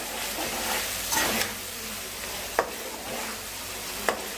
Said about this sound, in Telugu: మొత్తం అల్లం వెల్లుల్లి పేస్ట్ని ఇలా వేయించుకోవాలండి, మొత్తం దోరగా వచ్చేలాగా.